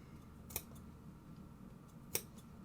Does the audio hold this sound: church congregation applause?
no